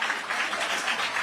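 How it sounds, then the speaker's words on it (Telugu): Audience applause at a political event with Chandrababu Naidu, Pawan Kalyan and Pemmasani present; a steady, dense wash of clapping from a crowd, continuous and fairly loud throughout, with no talk over it. "గట్టిగా చప్పట్లు కొట్టి అభినందించండి"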